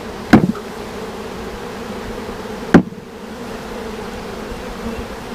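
A honeybee swarm being shifted from one hive box to another, a continuous low buzzing hum with two sharp knocks from the boxes being jarred, the droning carrying on steadily throughout without any voices.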